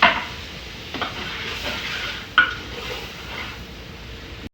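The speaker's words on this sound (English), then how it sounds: "Your onions start getting a little flimsy, start deglazing." Onions sizzle in a pot of smothered pork chops while liquid is added a little at a time to deglaze. A constant soft frying hiss runs under scattered stirring clinks and a sharp scrape of metal against the pot.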